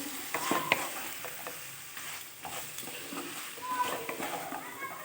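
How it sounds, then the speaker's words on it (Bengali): Desi chicken sautéed in a pan with ground spice powder for a restaurant-style curry, giving a steady sizzle broken by repeated scraping stirs and clinks, close and moderately loud. "ভালো করে কষিয়ে নেব মাংসটাকে"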